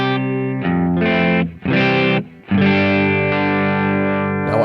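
Electric guitar played through a Thorpe Effects Warthog pedal into a Kemper Profiler, loud sustained distorted chords with short breaks between strums, close and alone.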